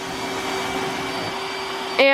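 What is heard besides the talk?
iRobot Roomba s9+ robot vacuum running on hard floor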